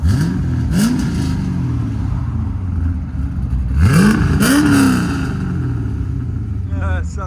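LS3-swapped Chevy Corvette C5 with Valvetronic mufflers closed, revved hard in two loud bursts: the engine snaps up and falls back quickly, then roars again later, with brief voices in the background.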